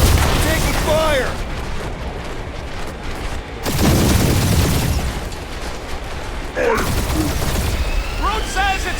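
Heavy gunfire and booming blasts from a Guardians of the Galaxy action game aboard a huge ship, dense and loud throughout, with a sharp burst near the middle and voices talking over the chaos.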